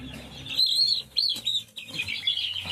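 High, thin chirping from 20-22-day-old chicks, repeated in quick overlapping bursts, close by with a soft background murmur.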